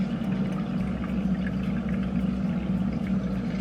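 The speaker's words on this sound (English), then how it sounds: "And then the rest, I fill the bag all the way up" Water pours steadily into a feeding tube bag, a continuous low gurgling stream heard close up and alone.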